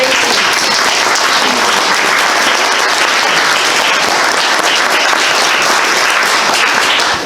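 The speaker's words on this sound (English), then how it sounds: "I want you to give them a round of applause" Sustained, loud applause from an audience at a Veterans Day program, honoring veterans who perform military funerals; dense steady clapping fills the whole stretch without a break.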